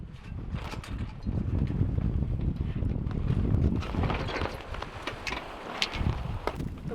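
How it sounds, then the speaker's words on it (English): A light wind blows from behind a sailboat under way, heard as low, rumbling gusts of wind buffeting the microphone that swell and ease, with faint creaks and knocks aboard and no clear talk. "The wind is fairly light and just behind us"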